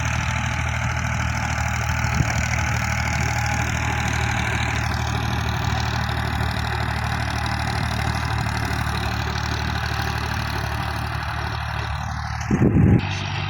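A 1979 Fiat 480 tractor engine runs steadily with a heavy rotavator attached, a constant low droning hum near and unchanging, ending in a short louder burst of rattle.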